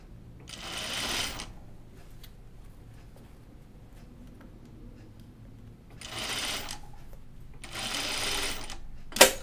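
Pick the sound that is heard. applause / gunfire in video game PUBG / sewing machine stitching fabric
sewing machine stitching fabric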